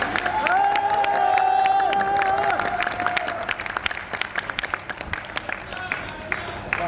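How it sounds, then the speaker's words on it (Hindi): An auditorium audience at a poetry gathering applauds and cheers, with a sustained whoop riding over the clapping early on before the applause thins into scattered, fading claps. "तालियां कमजोर हैं आपकी"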